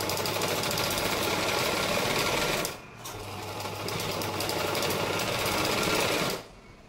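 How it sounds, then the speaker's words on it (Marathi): A sewing machine runs a line of stitching along a blouse sleeve, a loud close mechanical whir that pauses briefly near the middle, resumes at full speed, then stops, with no one talking. "आता आपण इकडून परत एकदा एक शिलाई देऊन घेणार आहोत."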